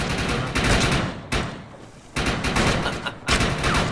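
Gunfire in the shooter video game Defiance: loud bursts of rapid automatic shots in several dense volleys separated by short pauses, close and harsh.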